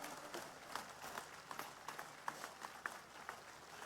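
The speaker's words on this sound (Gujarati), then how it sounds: "એકવાર આ બધા જ આગેવાનો તો બે હાથ ઊંચા રાખીને જોરદાર તાળીઓ પાડી લો બધા" Faint, distant crowd applause at a late-night political mass rally, a thin wash of clapping with scattered sharper claps standing out over a low background.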